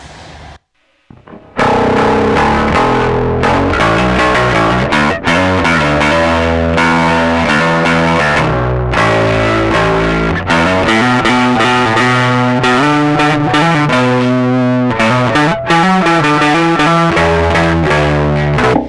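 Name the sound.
bass guitar through Boss Super Overdrive pedal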